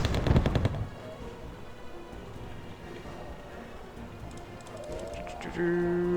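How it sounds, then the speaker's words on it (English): Rapid machine gun fire in the Wargame video game, a loud burst of fast repeated shots at the start followed by distant low-level battle noise, with a brief tonal game sound near the end. "Shooting up all those little infantry dudes."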